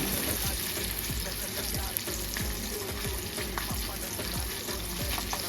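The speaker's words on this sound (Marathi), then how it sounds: "मग फ्राय पॅनमध्ये थोडं तेल टाकून मसाला लावलेला पापलेट त्यामध्ये टाकला" Masala-coated pomfret frying in a little oil in a frying pan, a dense, loud, continuous crackling sizzle with rapid popping spatters throughout, heard up close and alone.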